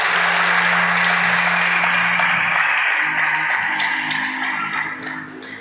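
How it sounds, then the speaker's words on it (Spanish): Church congregation clapping loudly in praise during a Spanish-language service, a dense, sustained roar of many hands that holds strong for several seconds, with a low sustained tone beneath, then gradually thins and fades. "Démosle palmas fuertes al Señor por esas mamis preciosas."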